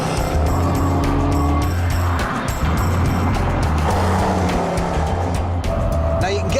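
Supercharged petrol V8 Land Rover Range Rover Sport with 503 horsepower driven hard around Donington Park racetrack, a loud, steady engine roar close to the microphone with tire squeal and some background talk.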